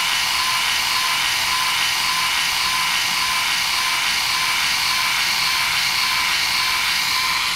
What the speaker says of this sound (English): as you're clamping down, just slowly start moving the Instyler down your hair